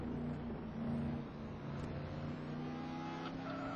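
GT Sport race cars on the Vallelunga circuit, a steady, fairly close engine drone with humming tones that waver slightly and carry on without any speech.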